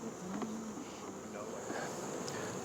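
Honey bees of Caucasian breeder-queen stock hum steadily at an opened hive in a beeyard, a soft continuous drone with a few louder passes of single bees close by.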